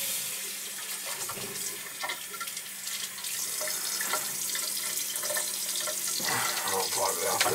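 A faucet runs steadily to wet a rag, splashing into a sink with shifting patter and gurgle, fairly faint and close, with some handling noise.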